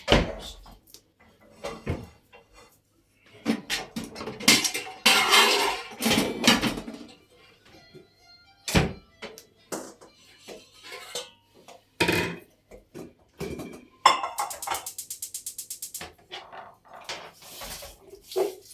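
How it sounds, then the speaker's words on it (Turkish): A small cooking pot is pulled out amid clanks, rattles and a cupboard bumping, in irregular bursts of kitchen clatter with quiet gaps between. "Şöyle ben şuradan bir tencere alayım."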